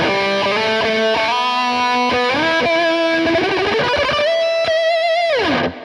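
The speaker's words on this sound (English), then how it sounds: "Now, add a little bit of sweet reverb." Distorted electric guitar through a Peavey Invective 112 tube amp with added amp reverb, a melodic lead phrase of sustained bent notes and slides ending in a long held note that swoops down, loud and alone.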